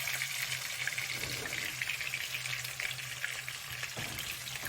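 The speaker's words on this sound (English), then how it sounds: "Add them to the pan and let them sizzle away until they are beautiful golden brown and fragrant." Ginger and garlic sizzle in a hot frying pan, a steady close hiss of oil that runs continuously without pause, with no talk over it.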